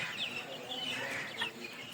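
Chicks cheeping while being loaded in summer heat, with a busy chorus of high, overlapping peeps close by and continuous over a low background hum.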